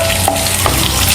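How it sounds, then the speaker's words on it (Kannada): Onions stir-fry in a hot pan for Indo-Chinese chicken chilli, a steady loud sizzle with a couple of brief scraping stirs, close and continuous throughout. "ಫ್ರೈ ಮಲ್ಪೋಡು"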